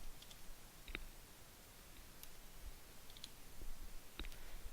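Computer keyboard keys tapped while entering a spreadsheet formula, a few sparse, faint, crisp clicks spaced irregularly over a steady low hiss, with no voices.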